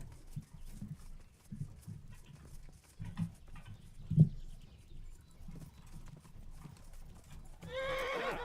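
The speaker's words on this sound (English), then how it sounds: "Get on my fucking horse, man." A horse in the medieval video game Kingdom Come: Deliverance clops with low, scattered hoof thuds and snorts, one sharper stamp mid-way, ending in a brief whinny; faint and intermittent, with no talk.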